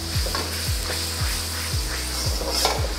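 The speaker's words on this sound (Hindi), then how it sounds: "और अब मैं करूँगा इसको सौते," Green chili sautéing in a hot pan for vegetable chow chow, a loud continuous sizzle broken by regular stirring strokes roughly every half second, close and steady with no voices.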